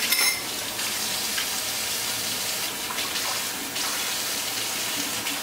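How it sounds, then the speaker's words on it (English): A kitchen tap runs steadily while dishes are washed after cooking taco burgers, a continuous hissing stream of water with faint clinks and splashes, close and fairly loud. "Start doing some of these dishes."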